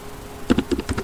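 Brisk typing on a computer keyboard, about half a dozen close keystrokes in an uneven run over a faint background hum.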